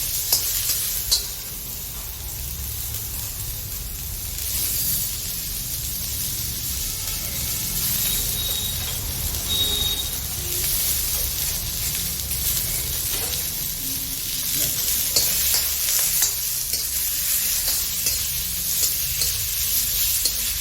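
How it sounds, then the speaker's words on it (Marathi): Tomatoes fry in a pan with golden-fried cashews, a steady close sizzle and hiss with occasional stirring scrapes that runs the whole length without talk. "आता आपण याच्यामध्ये टोमॅटो फ्राय करून घ्यायचे आहेत"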